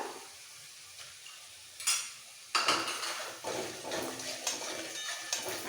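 A spoon scrapes and clatters in a pan as potatoes and pointed gourd are sautéed with green chilli paste for a vegetarian curry. Soft sizzling frying runs underneath a few sharper metal knocks, quiet and close.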